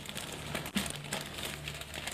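Plastic bag of plaster tipped into water and shaken during lost wax casting, giving close, continuous crinkling and rustling with one sharper crackle partway through.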